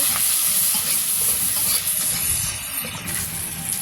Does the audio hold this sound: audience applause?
no